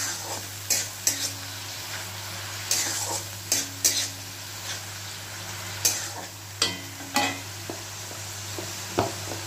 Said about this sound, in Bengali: লো ফ্লেম করে পেঁয়াজটাকে আমি ভেজে নেব সুন্দর করে।